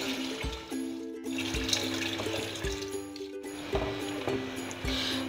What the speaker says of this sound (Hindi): दो जग पानी डाल दिए निहारी में